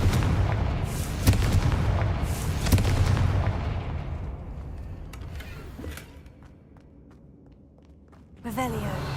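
Confringo spell blasts in the video game Hogwarts Legacy, several booming explosive impacts with a fading rumble, then a fresh burst near the end.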